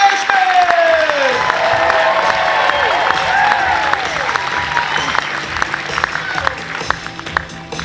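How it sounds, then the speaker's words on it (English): Comedy show audience applauding loudly and steadily, with cheering and whoops rising through the dense clapping as a comedian is introduced. "Keep that applause going, ladies and gentlemen"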